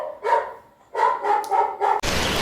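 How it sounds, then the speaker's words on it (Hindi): A dog barks in several quick, loud bursts close by, probably near a teaching studio, followed by a burst of broad hiss at the end. "अरे कौन भौंक रहा है ये बदतमीज"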